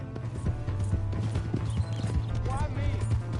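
Horse hooves clip-clopping at a gallop in Red Dead Redemption 2, a steady rhythmic pounding under speech and a brief whinny near the end.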